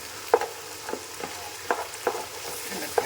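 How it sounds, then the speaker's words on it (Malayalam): Chicken fried rice sizzles in a pan as sauce is stirred through it, with a steady fry hiss broken by several sharp scraping strokes of the spoon against the pan at irregular intervals. "അപ്പോൾ അതും കൂടിയിട്ട് നമുക്ക് ആ സോസും കൂടി അങ്ങോട്ട് മിക്സ് ചെയ്യാം"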